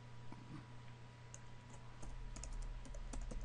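Light keyboard typing of code into web animation software, faint scattered ticks and clicks over a steady low hum and room noise, close but quiet.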